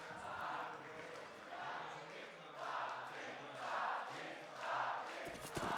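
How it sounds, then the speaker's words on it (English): A large arena crowd at a Counter-Strike esports finals roars in rhythmic swelling waves, like a chant rising and falling, fairly distant, with a voice faintly over it. "Crowd comes to life."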